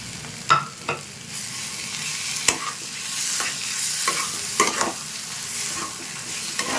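Fried potato filling for kochuri, with coriander leaves added, is stirred in a sizzling pan, with scraping strokes and clinks that stand out over a steady hiss of frying.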